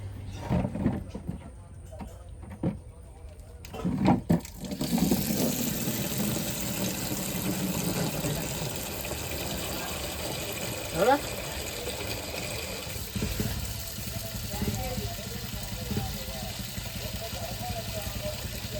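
Water is poured onto salty soil for planting chilli, brinjal, okra and tomato, a steady splashing gush that runs through most of the clip, with people talking now and then.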